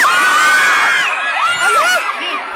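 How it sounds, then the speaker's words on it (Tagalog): Students scream in fear as an earthquake strikes during a flag raising ceremony at Matanao National High School in Davao del Sur, with many loud, overlapping shrieks and yells from a large crowd. "Nang umuga ang lupa na puno ng hiyaw, ng takot ang flag raising ceremony sa Matanao National High School dito sa Davao del Sur."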